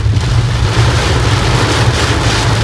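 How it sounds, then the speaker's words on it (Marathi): Heavy monsoon downpour around Lonavala near Amby Valley, a loud, dense, steady roar of rain and wind that fills the whole stretch without a break and with no voices. "बघितलं किती जोरदार मुसळधार पाऊस येतोय"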